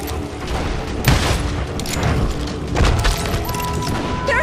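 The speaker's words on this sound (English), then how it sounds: "Shooting in the street!" Gunfire in a Wild West street shootout in the game Call of Juarez Gunslinger: dense, loud shots and booming blasts keep up throughout, with heavier hits near the one-second and three-second marks.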